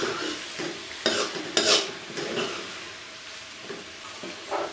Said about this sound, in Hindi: और अब मैं इनको अच्छे से मिक्स कर लूँगी।